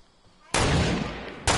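Video game gunfire: a sudden loud burst of shots lasting about a second, then a second blast starting, close and harsh against a quiet background.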